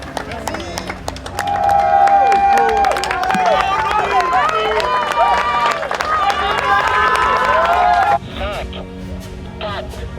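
A large crowd at the Mini Transat solo sailing race departure in Vendée cheers, whistles and claps loudly for several seconds, with voices mixed in, then the noise drops off abruptly.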